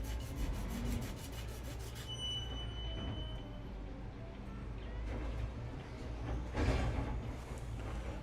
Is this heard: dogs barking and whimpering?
no